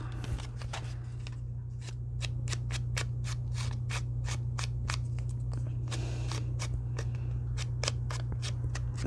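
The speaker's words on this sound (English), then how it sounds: "I wanted to tear around it like this with some overhang" Paper torn by hand while assembling a junk journal, a run of sharp, closely spaced rips and crackles across the whole stretch, close and fairly loud over a steady low hum, with no talking.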